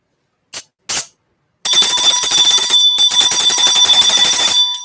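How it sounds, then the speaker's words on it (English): A bell rings loudly and close by: two short separate strikes, then a sustained bright ringing that carries on for about three seconds with one short break before it cuts off. "Let me ring a bell."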